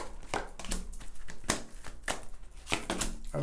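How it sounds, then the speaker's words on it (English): A deck of tarot cards is shuffled by hand nearby, giving a continuous run of crisp, papery riffling and slapping clicks with sharper snaps every half second or so, heard alone without talk. "now I'm going to shuffle these cards"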